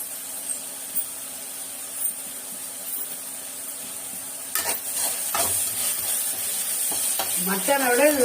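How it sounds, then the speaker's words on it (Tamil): Tomato and onion sauté in a pan, giving a continuous soft sizzle and hiss with scattered stirring scrapes and clatters that grow busier toward the end. "இப்போ தக்காளி வெங்காயம் நல்லா வதங்குது"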